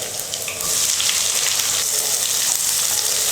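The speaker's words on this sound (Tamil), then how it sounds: "வெங்காயம் வந்து ஒரு 5 நிமிஷம் நல்லா வதங்கணும்" Onions sizzle steadily in hot oil with garlic and popped mustard seeds for a dried-fish thokku, a dense continuous frying hiss that swells louder after the first half second and holds alone without talk.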